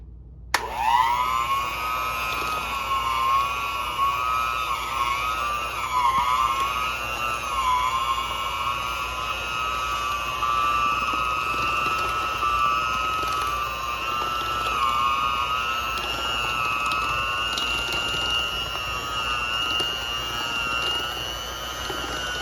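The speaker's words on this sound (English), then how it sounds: "I am going to use my little hand mixer here and get this together into a smooth, consistent dough shortly" A small electric hand mixer whirs steadily through brookie dough, a loud continuous motor whine with slight pitch wobbles as the beaters work, running alone without talk.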